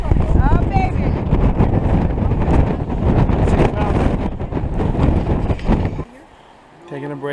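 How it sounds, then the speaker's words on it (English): Steady wind buffets the microphone while trekking in Patagonia, loud and rushing for several seconds before dropping off suddenly, with voices faintly mixed in. "A little bit of wind."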